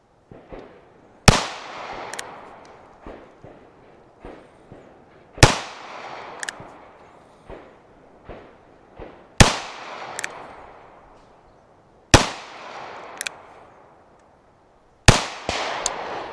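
Five sharp, loud shots from an NAA mini revolver with a 2-inch barrel firing 30 grain VMAX rounds, spaced a few seconds apart, each with a short ringing decay, with faint handling clicks between.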